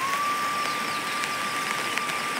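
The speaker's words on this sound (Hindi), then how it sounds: "और बारिश काफ़ी हो रही है" Steady rain pouring in a mountain village in Uttarakhand during the rainy season, a dense even hiss of drops close by, with a faint continuous tone running underneath.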